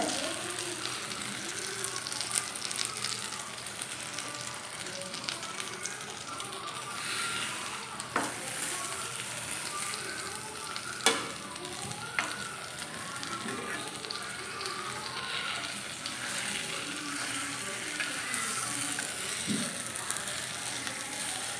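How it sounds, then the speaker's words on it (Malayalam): A stuffed banana fries in butter in a pan, with a soft, continuous sizzle and crackle heard fairly faint and close, plus a few light clicks along the way. "നമ്മുടെ ഈ പഴം ഒന്ന് ഈ ബട്ടറിനകത്ത് കിടന്നൊന്ന് മൊരിയിച്ചെടുത്താൽ മതി"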